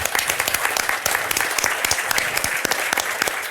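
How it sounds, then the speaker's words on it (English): An audience applauds at the close of a debate between Per Bylund and Andrew Kliman, with steady, dense clapping from many hands that carries evenly from start to finish. "A huge round of applause to you too"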